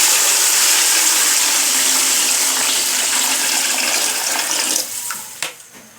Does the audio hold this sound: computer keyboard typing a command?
no